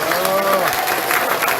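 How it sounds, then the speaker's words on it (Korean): Applause from an audience at a Korean political party meeting, a steady dense wash of clapping that fills the whole moment with crowd noise underneath. "한번 격려의 박수를 한번 주세요."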